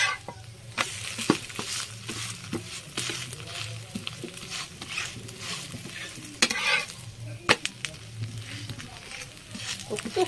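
Paratha made with carrot and egg fries in oil in a pan, giving a steady close sizzle with scattered crackles and sharp pops throughout, and a soft low hum beneath.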